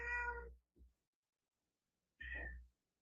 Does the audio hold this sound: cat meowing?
yes